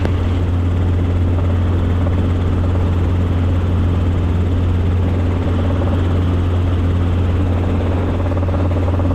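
Robinson R22 helicopter in flight, heard from inside as a loud, steady rotor and engine drone with a strong low hum throughout.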